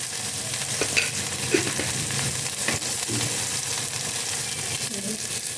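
Okra sizzles and crackles in a hot pan with occasional scraping stirs, a continuous moderate frying hiss throughout.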